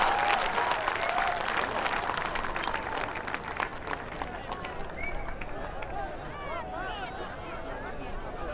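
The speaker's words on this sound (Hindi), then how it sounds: "तालियों की गड़गड़ाहट से स्वागत करें" Dense, sustained applause from a large crowd at a huge public rally welcoming the Indian Prime Minister, loud and continuous throughout, with shouts and voices mixed into the clapping.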